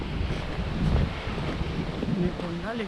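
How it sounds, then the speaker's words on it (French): Steady low sea wind rumble buffets the microphone outdoors on a walking loop at Saint-Martin-Lalande, with a broad roar throughout and faint voices underneath. "Il fait le vent marin"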